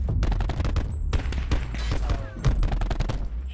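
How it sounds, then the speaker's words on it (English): Rapid bursts of gunfire from a Call of Duty match, dense overlapping shots and booms filling the clip at close range with a steady loud level, a faint voice barely present underneath. "Shots."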